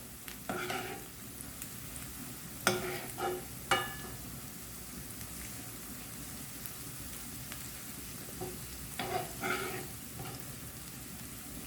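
Potato filling frying with spices in a pan: a soft continuous sizzle broken by a few sharp scraping stirs, quiet and close, with no talking.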